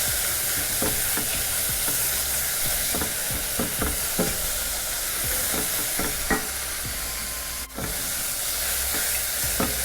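Mushrooms for Hungarian mushroom soup sizzle and fry in a pan, a constant close hiss broken by intermittent scraping stirs, with no voices.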